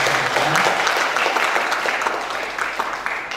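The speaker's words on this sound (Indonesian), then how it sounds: "Kita berikan tepuk tangan sekali lagi" An audience at a literary gathering applauds the speakers, a dense, even burst of clapping from a roomful of people that slowly fades.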